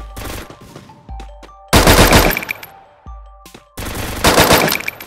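Automatic weapon fire in the Free Fire battle royale game, two long loud bursts of rapid shots separated by a short gap with fainter shots and metallic clicks in between.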